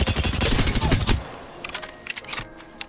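Rapid automatic gunfire in Apex Legends, a dense, loud burst of shots for about a second, followed by a few scattered, quieter shots.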